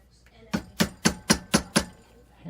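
Six sharp, evenly spaced metal hammer strikes ring out in quick succession as a twisted fork is shaped into a ring, each blow bright and clinking with a short decay.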